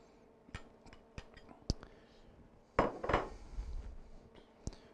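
Cubed Parmigiano Reggiano cheese, about 8 ounces, dropped into a pot in a home kitchen: a handful of sharp clinks and knocks, then a louder clattering tumble in the middle, fairly close and otherwise quiet.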